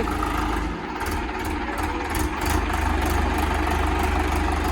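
A Swaraj 744 tractor engine idles on a farm with a steady, deep diesel rumble and light vibration. The engine is close and loud, runs evenly for the whole span, and no voices are heard.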